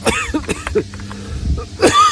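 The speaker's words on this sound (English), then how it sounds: "even though I'm coughing now" Several harsh, close coughs in quick bursts, spread unevenly with short pauses between them, fairly loud and with no talking.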